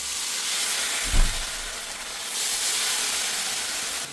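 Ginger and garlic paste sizzles and steams in a hot pan with ghee or oil, a steady hiss throughout with a brief louder burst early on, no voices.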